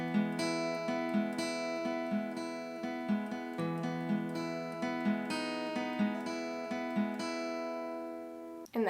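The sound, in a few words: acoustic guitar picking a full song intro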